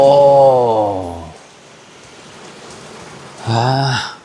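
Steady rain hisses at a house in Thailand, heard alone in the middle and running under a voice speaking at the start and end.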